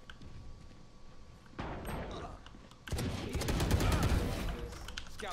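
Gunfire in the Valorant video game: a burst of rapid shots kicks in, falls quiet briefly, then resumes as a denser, louder stream of fire that continues to the end.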